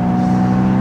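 A Porsche Boxster sports car engine drones steadily and loudly in the canyons, a brief, even hum with no change in pitch and no talking.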